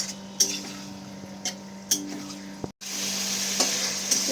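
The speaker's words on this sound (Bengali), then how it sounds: "ভালো করে চিকেনগুলো কষিয়ে নেব মশলার সাথে।" Chicken fried with spices in a pan sizzles steadily while a spoon stirs it, giving several sharp metallic scrapes and taps against the pan over a constant frying hiss, without speech.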